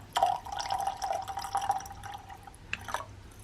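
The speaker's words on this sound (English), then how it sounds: "So I'm going to put more of my vinegar in there to 2 parts." Vinegar pours from a container into a bottle for a homemade cabinet cleaner, a close, continuous trickling stream of liquid lasting a few seconds with a short splash near the end.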